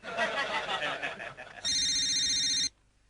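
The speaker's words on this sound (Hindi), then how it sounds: "तो तुम रितु को फोन लगाओ" A voice speaks briefly, then a telephone rings with one bright, electronic trilling burst that lasts about a second and stops abruptly, leaving quiet.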